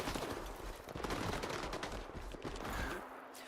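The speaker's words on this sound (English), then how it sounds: "I'm going to let these guys finish shooting it out" Dense gunfire in the video game S.T.A.L.K.E.R. 2, with overlapping rapid bursts and continuous firing from several weapons that stay loud and busy throughout.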